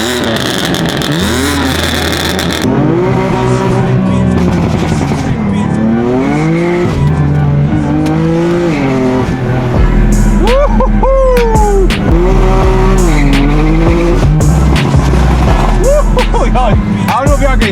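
A tuned BMW F80 M3 with downpipe, intakes and aftermarket exhaust drives hard, loud engine note rising and falling through repeated revs and shifts with sharp crackles, heard from inside the car alongside occasional voices.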